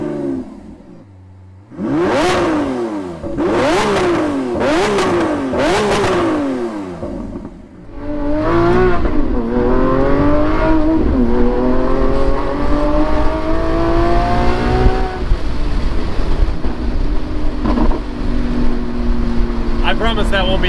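A 759-horsepower V12 Lamborghini Aventador SVJ Roadster revs hard in several sharp rising bursts, then pulls away, its engine note climbing steadily through the gears and staying loud and close throughout.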